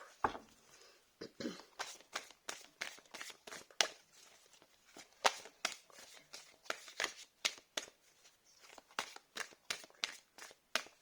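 A deck of oracle cards is shuffled by hand in a long run of quick, crisp riffling flicks, close and fairly quiet, with a few brief pauses between bursts.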